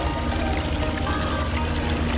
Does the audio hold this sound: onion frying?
no